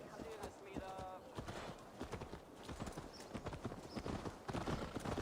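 Horses ridden in a video game clip-clop along in a steady, rolling rhythm of hoofbeats, fairly faint and continuous beneath someone speaking, with a brief whinny early on.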